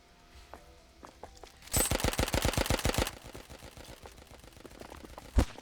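A rapid burst of video game gunfire sprays for over a second, preceded by a few scattered shots and ending with a single louder bang.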